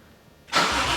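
A Nissan S14 Silvia with a swapped 1JZ-GTE engine starts on the first try, a short crank bursting into a loud, steady running roar close by.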